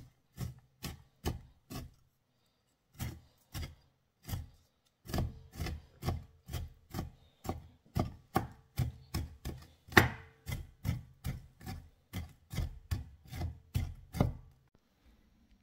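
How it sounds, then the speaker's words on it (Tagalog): Rapid knife chops through finely minced ingredients on a cutting board for lumpia filling, a steady run of sharp woody knocks with brief pauses, close and clear with no talking. "Chop natin ang pinong-pino."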